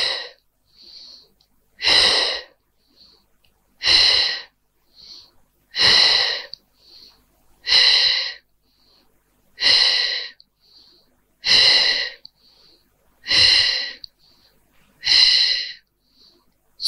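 Loud, forceful exhalations during a Pilates exercise recur about every two seconds, close to the microphone, with softer breaths in between and no talking.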